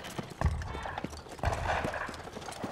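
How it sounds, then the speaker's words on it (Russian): Horse hooves clip-clop in a short, uneven run of hollow thuds, close and fairly loud, with a faint rustle of movement behind them. "Чанг, я у тебя лошадку возьму."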